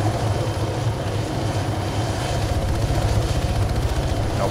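A military helicopter in the video game ArmA 3 flies steadily, its loud rotor chop and engine roar continuous and close for several seconds with no speech.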